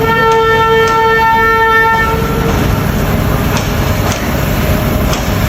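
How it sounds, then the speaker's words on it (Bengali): A train passing at night, heard from a balcony: a loud horn toots for about two seconds over the heavy rumble and clatter of the rail cars, which continue steadily afterward. "দেখতে পাচ্ছেন ট্রেনটা রাতেও কিন্তু দেখতে খুবই সুন্দর"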